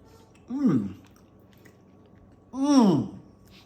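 Someone bites into and chews air-fried food, two separate close crunchy bites about two seconds apart with quiet pauses between them.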